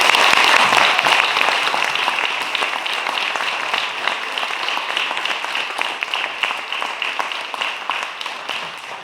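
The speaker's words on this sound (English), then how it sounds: "these folks need a big round of applause" An audience applauds after a farming panel discussion, with dense, sustained clapping from a crowd in a hall that starts loud and tapers slowly over several seconds.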